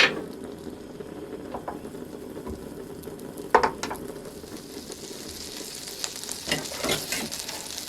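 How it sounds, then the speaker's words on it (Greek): Butter sizzling in a frying pan: a steady, quiet frying hiss throughout, with a few light clinks and knocks of kitchen utensils against the pan. "Θα ρίξουμε το βούτυρο στο τηγάνι και θα το αφήσουμε να κάψει."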